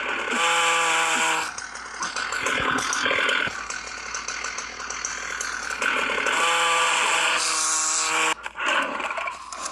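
Chainsaw in the zombie video game Into the Dead, a loud buzzing motor that rises and falls as it revs in bursts, cutting out briefly between surges, with nothing else heard over it.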